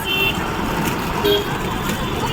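Busy bus stand with a parked bus, a steady rumble of engines and traffic, brief horn toots cutting through the din.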